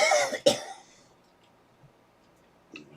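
Two quick coughs close together at the start, followed by near silence and a faint rustle at the end.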